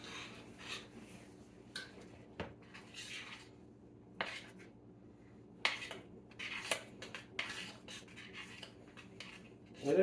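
A spoon stirring thick peanut butter fudge mixture in a pot, making soft scraping strokes and intermittent clinks and taps against the pan, quiet and close with no speech.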